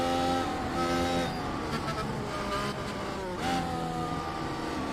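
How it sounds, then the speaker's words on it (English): A Formula 1 race car at the Brazilian Grand Prix, Autodromo Jose Carlos Pace, runs low on fuel. The engine whines steadily, its pitch wavering and dipping in a couple of uneven stumbles, loud and close, with nothing else over it. "you can hear the car sputtering a bit"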